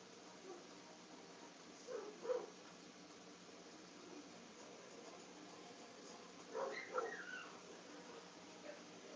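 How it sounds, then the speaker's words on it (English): Dogs in a room make a few faint whimpers and soft yips, two brief bursts separated by quiet stretches over a low steady background. "These dogs are really distracting me this morning"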